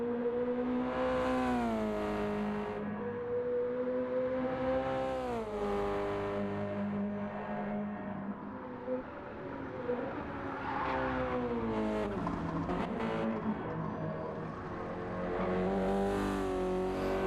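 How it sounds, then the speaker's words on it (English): A race car engine in a racing video game revs and climbs through the gears, loud and sustained, with pitch rising and falling through shifts and brief tire squeals. "The car sounds quite good though."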